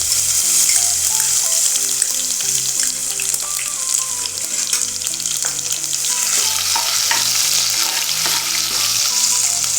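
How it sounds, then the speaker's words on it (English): Mustard seeds and crushed garlic fry in hot oil for a bitter gourd pickle, giving a dense, steady sizzle with crackling throughout, with faint tonal background music underneath. "When the mustard splutters, add the crushed garlic."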